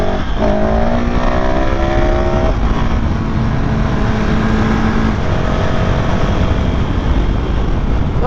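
A KTM 690 SMC-R supermoto motorcycle engine drones loudly and continuously, its pitch climbing and shifting as it revs, close by with no voices.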